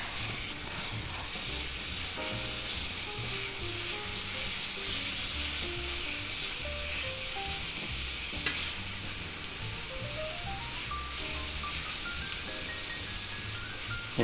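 Thawing burger patties with onions sizzle in a pan while being chopped apart, a constant loud frying hiss with faint scraping and one sharp knock partway through, close and unbroken by speech.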